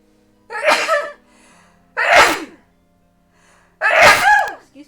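Three loud sneezes in a row, evenly spaced a little over a second apart, each a sharp burst followed by quiet.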